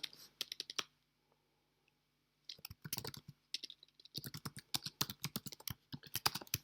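Typing on a computer keyboard, bursts of rapid close key clicks separated by a quiet pause, then steady continuous tapping.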